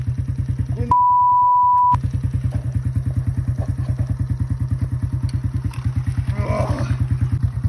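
A moped engine chugs steadily and loudly in a rapid pulsing rhythm as it rides along a wet forest track with puddles. A steady electronic tone cuts in for about a second near the start.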